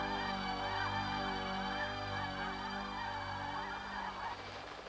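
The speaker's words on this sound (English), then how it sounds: "graceful, pure white snow geese with black-tipped wings from the warm Gulf shores of Texas and Louisiana" A flock of pure white snow geese with black-tipped wings calling in flight, a dense, continuous chorus of overlapping honks, loud and close, with no voices.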